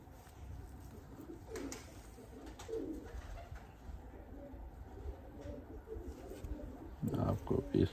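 Pigeons of a high-flying breed coo softly in a loft setting, low repeated coos scattered through the clip with a louder burst near the end, under faint background noise and some talk.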